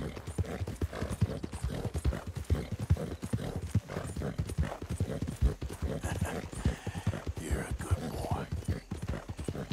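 In Red Dead Redemption 2, a horse's hooves clip-clop in a steady, brisk rhythm, close and continuous, with a low game soundscape underneath and someone talking over it at times.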